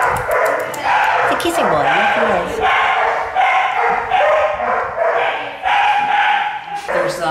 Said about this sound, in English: We have a puppy staying in here at the moment.